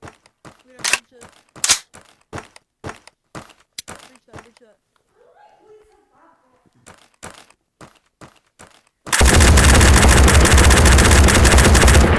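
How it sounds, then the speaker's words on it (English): Light machine gun firing in the VR shooter Tactical Assault VR, heard as a string of sharp, loud shots spaced out in bursts, a pause, then a sudden sustained roar of continuous fire. "I got a big boy LMG now."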